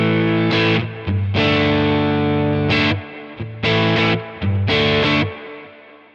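Electric guitar played through the edge capture on a Nano Cortex: a lightly distorted, chorus-tinged tone in a few sustained strummed chords with short gaps, heard close and without talk.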